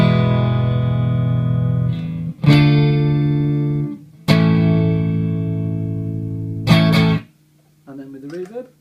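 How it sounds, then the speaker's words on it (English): Sustained electric guitar chords through a Strymon Blue Sky plate reverb pedal ring out one after another, each strummed and left to decay with a wide, shimmering reverb tail, with a short pause between. "I'll just play some chords for you as well so you get a better understanding"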